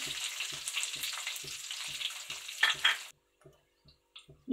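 Ajwain seeds sizzle and crackle as they hit hot oil while ajwain rice is cooked, a loud bright fry with a steady ticking pulse, then dropping to quiet faint pops.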